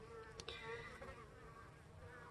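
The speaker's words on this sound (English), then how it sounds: "Bees fanning a hive." Honeybees fan at the entrance of a hive in an apiary on a cool February day, a faint, steady insect buzz with a single bee briefly flying close by.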